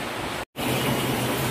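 Heavy rain pours on an old house as a steady, dense hiss that fills the space, briefly cutting out for an instant before resuming at the same level.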